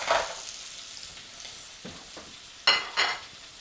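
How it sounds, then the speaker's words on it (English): Shrimp hit hot oil in a non-stick pan and sizzle steadily up close, with a few louder bursts of crackle and spatter as they are stirred and spread out, and no talking. "And there's the sizzle."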